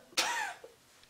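A single harsh cough bursts out close and fairly loud, followed by a brief throaty trailing sound and then quiet.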